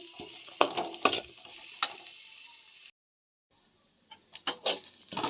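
Masala frying in a pan, a close sizzle with bursts of stirring clatter that drop out into near silence midway, then resume with sharper scraping.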